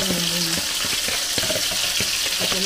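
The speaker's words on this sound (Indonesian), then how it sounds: "Ini bumbunya digoreng." Spice paste for Minang-style fried chicken frying in a pan, a steady close sizzle with scraping stir clicks throughout and faint kitchen voices underneath.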